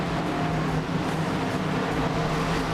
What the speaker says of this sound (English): the only music you should be listening to now are the roar of the 43 engines getting ready to lock and load